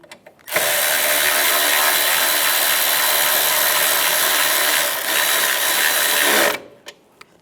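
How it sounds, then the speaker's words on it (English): Power tool drives a bolt on a 1998-2010 Volkswagen Beetle during speed sensor replacement, one steady loud whir lasting about six seconds, with a few clicks before and after. "take the bolt, it's going to go down here, and tighten this down"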